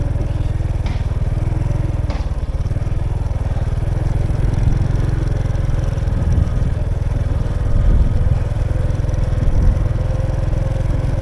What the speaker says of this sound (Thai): ตอนนี้กำลังขี่มอเตอร์ไซค์